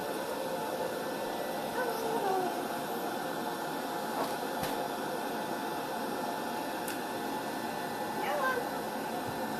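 A microwave oven hums steadily and evenly while popcorn cooks inside, with faint voices talking over the constant drone.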